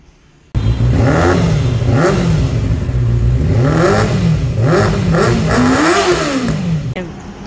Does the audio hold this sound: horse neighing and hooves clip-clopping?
no